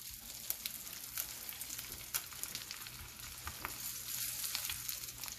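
Chicken cordon bleu sizzles steadily in a pan of oil and butter, a continuous close crackle with scattered sharper pops, no voices over it.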